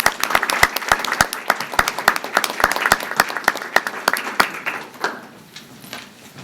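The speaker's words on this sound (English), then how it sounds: "A big round of applause." An audience applauds at a Peoria school board meeting: loud, dense clapping from a room full of people that thins out and fades over the last second or two.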